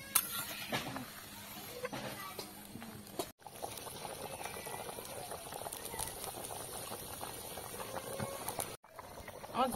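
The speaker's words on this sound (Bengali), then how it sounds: "আমার ঝোলটা ফুটে উঠেছে।" Chicken curry gravy bubbling in a pot over a village cooking fire, a steady broadband boil with small splashy pops running throughout, briefly cut off twice.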